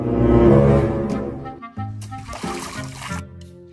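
River water splashing and sloshing, a loud churning burst at first that eases into scattered trickles and splatters, with overlapping voices and a voice partly mixed in.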